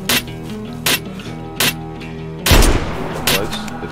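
Gunfire in the survival game DayZ: single loud shots crack at regular intervals, then a heavier burst with a lingering rumble, close and prominent over a low hum.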